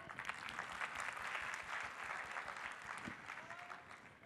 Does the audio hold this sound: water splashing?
no